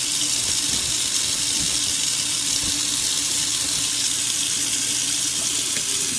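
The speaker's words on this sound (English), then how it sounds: "I'm going to rinse everything really well" A kitchen tap runs in a steady, full stream into a sink while garbage disposal parts are rinsed, an even close hiss with faint clatter underneath.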